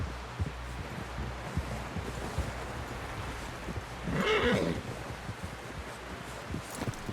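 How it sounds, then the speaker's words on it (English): A horse in the video game Red Dead Redemption 2 lets out one loud whinny midway through, standing out against quiet rustling and light wind. "Someone help John down off this horse."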